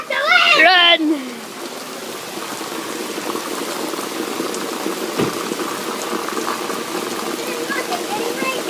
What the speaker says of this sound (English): It's getting rained on.